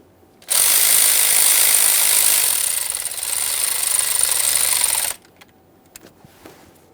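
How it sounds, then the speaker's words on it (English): A power tool runs loud and continuous for about four and a half seconds while 8mm mounting bolts are snugged down on a Ford F-150 3.5L V6 valve cover bracket, then stops, leaving quiet handling clicks. "you can install your 8mm headed mounting bolts. We'll snug it up, making sure this hose is secured."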